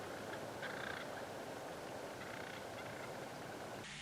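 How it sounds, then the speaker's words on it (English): Wild turkeys call repeatedly in autumn woods, gobbles and clucks arriving in short bursts from a moderate distance over a soft, steady outdoor background. "I have never heard turkeys be so vocal"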